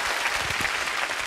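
An audience in a Korean talk-show setting bursts into dense, steady applause that fills the room, with a few voices faintly audible beneath the clapping.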